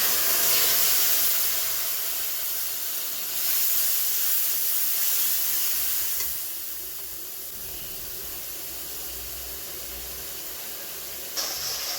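Spice masala sizzles in hot oil while a Bengali vegetarian doi kathal (jackfruit in yogurt) curry is cooked, giving a loud, steady, close hiss that eases slightly partway through, with no talking.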